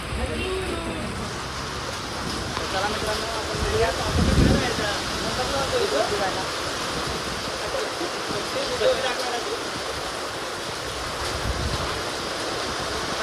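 Steady rain falling outdoors during a parcel delivery run, a constant hiss of drops with someone speaking over it.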